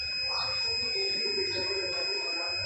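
An electronic buzzer on a BotIoT LED light and buzzer controller board gives a steady, high-pitched tone. The tone holds continuously at moderate level over faint background noise, with no talk.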